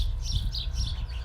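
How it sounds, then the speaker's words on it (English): Small birds chirping and tweeting in the trees around a garden on a sunny day, a steady faint twitter of overlapping calls with no talk over it. "Yeah, they're all chirping away there."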